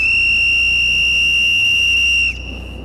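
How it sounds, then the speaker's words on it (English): A loud, piercing, sustained blast from a 118-decibel storm whistle holds a steady shrill tone for over two seconds, then cuts off abruptly. "I'm about to blow the storm whistle."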